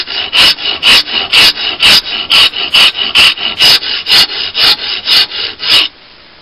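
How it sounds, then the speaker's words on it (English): A wood rasp strokes repeatedly across a wooden artist palette, making about fourteen loud, even scraping passes in a steady back-and-forth rhythm, close up and alone, before it stops abruptly. "the weight of the rasp now, just the weight of it gliding across."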